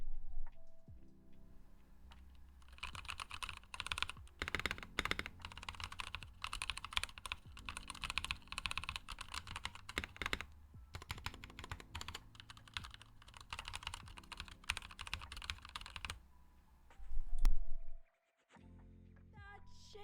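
Brisk typing on a Novel Key mechanical keyboard, with dense bursts of clicky keystrokes that come in runs separated by short pauses, close and clear, ending in a louder thump.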